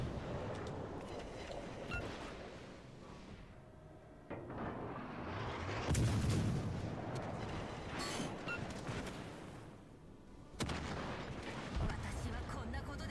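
Broadside secondary guns of a warship in World of Warships: Legends boom in a dense, rolling barrage, with heavy bursts swelling around the middle and again near the end, over continuous game noise and under voice chat.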